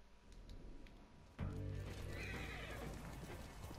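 A horse in the Ghost of Tsushima video game gives a loud, sudden whinny after being struck, with hoof clip-clops and game ambience underneath.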